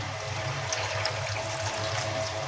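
About two glasses of water pour steadily into a pot with fresh juice ingredients, a continuous close splashing wash with no talking.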